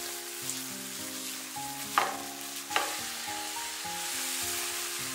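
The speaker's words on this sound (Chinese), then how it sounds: "然后茄子也给它倒进来，快速地给它翻炒均匀。" Eggplant and green peppers being stir-fried in a wok for a sweet and sour braised dish with tomato, a steady broadband sizzle with scraping spatula strokes and two sharper clanks, continuous and close with no talking.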